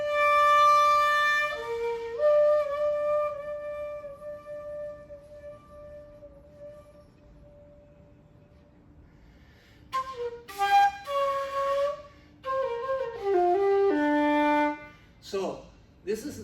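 A shakuhachi bamboo flute plays long, breathy held notes with pitch bends. After a quiet pause, a busier run of rising and falling tones follows, solo and close.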